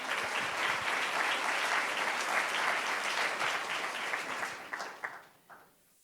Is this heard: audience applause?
yes